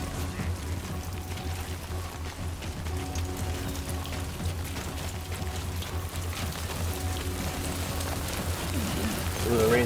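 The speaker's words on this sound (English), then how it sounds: "Ooh, the rain's getting heavy." Steady rain falls in the video game Death Stranding 2 as a dense, even hiss that runs throughout at moderate level, with a low rumble beneath and a brief louder swell near the end.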